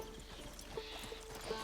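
Horse hooves clip-clop in Red Dead Redemption 2, a few evenly spaced soft hoofbeats over a steady background hum, faint and without speech.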